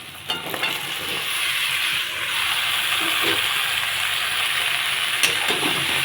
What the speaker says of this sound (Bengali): মশলার সঙ্গে কষিয়ে দেবো ভালো করে